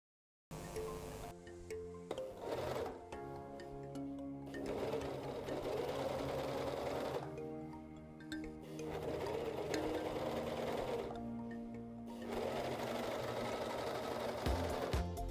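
A Gritzner 788 / Novum 960D overlock sewing machine stitches and trims fabric with its cutter. The close, continuous motor hum and rapid needle clatter run in several long bursts, with short pauses where the machine slows between passes.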